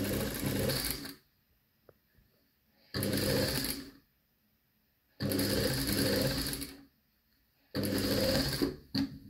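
A sewing machine stitches a recycled handbag in four rapid bursts of mechanical clatter separated by short pauses, close and loud, with faint handling noises between runs.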